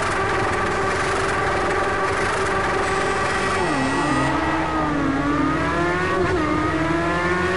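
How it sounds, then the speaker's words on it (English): A track car in Project Cars 2 holds a loud, steady engine drone throughout, its pitch dipping and climbing through gear changes and revs, with no pauses. "Sound like a race car."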